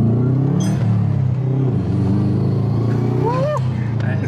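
Boosted Subaru on BC coilovers pulling hard under load, a loud close rumbling engine note with a rising whine near the end, while people talk and shout over it.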